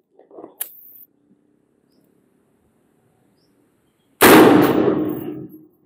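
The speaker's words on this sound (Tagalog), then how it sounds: "Okay, firing." A rifle fired with a scope at a steel target on a shooting range: one loud, sharp report that rings out and decays over about a second, following a few faint clicks and near-silence.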